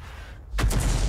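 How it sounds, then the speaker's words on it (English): Artillery fire in a tank video game: after a brief hush, a sudden loud, booming explosion erupts and rumbles on as a dense, sustained roar. "Now there was an explosion that time"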